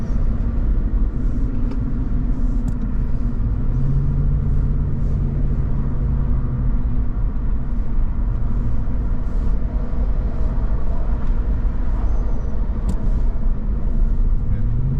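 A battered Jeep Grand Cherokee engine rumbles and rises in pitch as it accelerates on a road, a steady close drone with a voice talking briefly over it.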